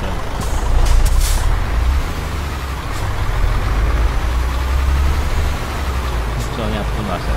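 A heavy truck in Euro Truck Simulator 2 rumbling with a deep steady engine drone, sharp hissing bursts of air brakes early on and a faint one near the end, loud and continuous.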